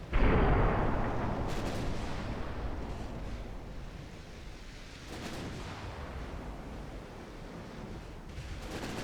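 Heavy naval gunfire rolls out during a war video game battle as ships shoot at enemy cruisers, a loud booming burst at the start fading into a dense, rumbling wash with further distant blasts.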